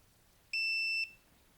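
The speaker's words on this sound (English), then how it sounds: "That LED turns red and an alarm goes off, so that is really nice." A charging station's tip-over alarm sounds after the unit is tipped onto its side: a single piercing electronic beep lasting about half a second, clear and alone against a quiet room.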